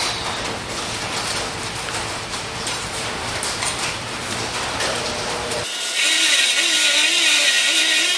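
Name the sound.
wire wheel cleaning a throttle body spacer part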